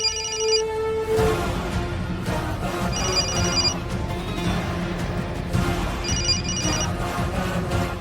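A telephone rings in repeated bursts about every three seconds, clear and fairly close, with a steady background murmur between the rings.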